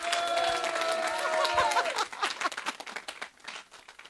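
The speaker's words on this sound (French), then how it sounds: "s'il vous plaît, sous un tonnerre d'applaudissements" An audience applauding a guitarist at a live studio event, a dense burst of clapping that thins and scatters toward the end, with a brief voice briefly heard over it.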